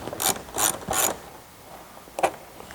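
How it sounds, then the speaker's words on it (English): A ratchet turning a 5/16 socket on the airbox bolt of a 5.7L/6.1L Dodge Charger, Challenger, Magnum or 300C during a cold air intake install. Three quick bursts of close metallic clicking come first, then after a pause one more short burst. "we're going to remove this bolt right here. We're going to use a 5/16 socket."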